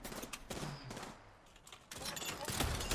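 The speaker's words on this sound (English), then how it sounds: "Taking fire." Bursts of rapid gunfire from an Apex Legends match, loud and close, cut by a short lull before heavy firing resumes, with players' voices mixed in.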